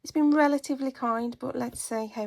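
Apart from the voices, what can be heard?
No everyday noise stands out behind the speech.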